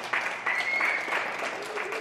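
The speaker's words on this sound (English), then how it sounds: "can everybody just give a round of applause for that?" Applause from an audience at a live event, a dense steady patter of hands with a faint voice over it.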